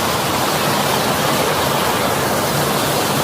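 A waterfall at Leimaram in Manipur roars as a dense, steady broadband rush of falling water, loud and continuous with no voices over it.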